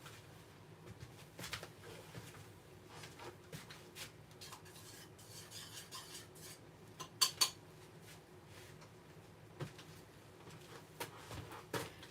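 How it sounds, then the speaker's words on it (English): A utensil stirs melted candle wax in a pot, producing faint scraping and occasional light metallic clinks spread irregularly over several quiet seconds. "I think my wax needs a stir"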